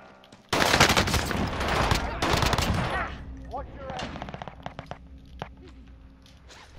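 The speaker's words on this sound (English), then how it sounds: "they're already shooting at me" Sustained automatic gunfire in Call of Duty: Modern Warfare, loud rapid bursts for a couple of seconds, then scattered quieter shots and footsteps.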